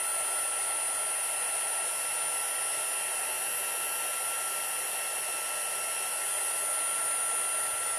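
A handheld heat tool blows hot air to melt gold embossing powder at a craft table, a loud, steady, continuous whooshing drone with a high whine, running close and unbroken throughout with no talking over it.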